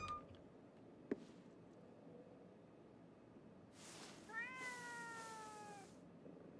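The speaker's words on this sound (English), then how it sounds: "Man, there's a lot of cats in here." A cat meows in the video game Ghostwire Tokyo, a drawn-out wavering meow rising out of a quiet, hissy ambient background after a single sharp click, faint and somewhat distant.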